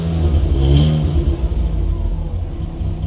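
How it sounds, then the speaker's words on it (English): A Ford Puma project race car engine runs with a rough, lumpy idle, a loud close uneven rumble that throbs and wavers throughout with no talking. "So she has got a rough idle."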